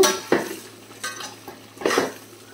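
Ginger garlic paste fries in oil for a chicken pickle while a spoon stirs and scrapes the pan every half second or so, with a steady soft sizzle underneath.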